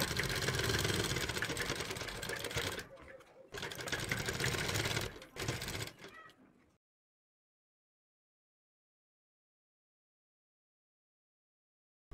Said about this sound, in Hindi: और यहाँ पर हमने बुकरम के बीच में ही सिलाई लगानी है।